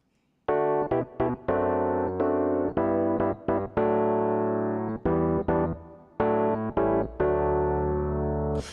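Electric piano intro for a gospel song, played alone: sustained chords with sharp re-attacks in a rhythmic pattern and brief gaps between changes, clear and full.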